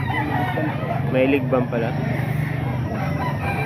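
A rooster at a grotto market crows once in a drawn-out call partway through, under and between a man's nearby speech and steady background hum.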